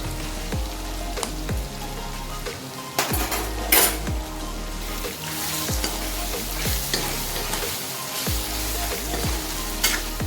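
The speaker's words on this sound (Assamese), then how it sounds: "মাংসখিনি সিজালৈ আৰু ৰঙচুৱা হোৱালৈকে মই ভাজি লৈছোঁ" Chicken meat fries with spices in a pan, a loud steady sizzle punctuated by regular metallic scrapes and clanks of stirring, repeating roughly every second throughout.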